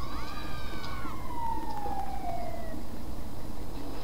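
Ambulance siren in the video game GTA V, a wailing tone that slides downward and fades over a few seconds, heard at moderate distance over a steady background rumble.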